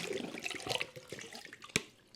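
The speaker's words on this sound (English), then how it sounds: "Give it another little quick rinse." Whole tomatoes, caps and stems removed, rinsed under a running tap in a sink, with splashing water and light clatter of the fruit in a colander, a sharp knock near the end, close and fairly quiet.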